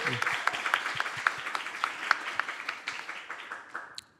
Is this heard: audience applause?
yes